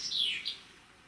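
Recorded birdsong played back from a phone app: a short, faint run of high chirps and a brief trill, heard alone without talk.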